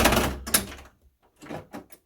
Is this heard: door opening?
yes